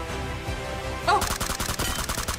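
Shooter video game gunfire: a quiet stretch gives way midway to a loud, rapid burst of repeated shots that continues to the end.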